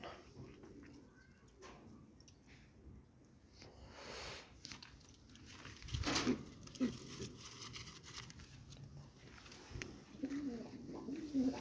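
Soft, low pigeon coos come and go close by, faint at first and growing clearer toward the end.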